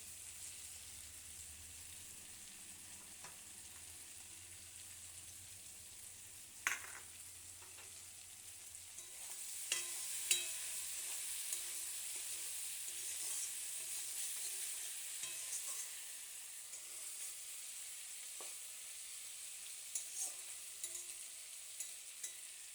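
Kachki fish paturi sizzles steadily in a karahi on a gas stove, a continuous close frying hiss with occasional stirring clinks and scrapes, no voices.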